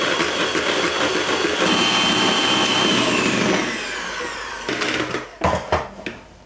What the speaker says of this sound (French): Ensuite, je vais fouetter ça.